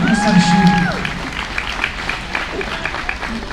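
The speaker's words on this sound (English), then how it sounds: "Yeah, give them a round of applause." Audience applause ringing out at a market lamb show, a steady wash of clapping from the crowd with a voice speaking over the start.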